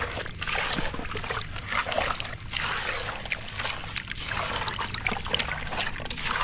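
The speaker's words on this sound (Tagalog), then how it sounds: "Okay, haluin natin." Pata tim with brown sugar is stirred in a pan, giving a steady wet splashing and scraping with soft sloshing, close and continuous.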